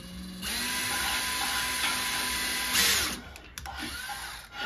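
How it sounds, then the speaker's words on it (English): A handheld power drill runs steadily for a few seconds while drilling out screw holes for mounting a P3010K-CO smoke and carbon monoxide alarm, then slows and stops. "So yeah, let's drill it out."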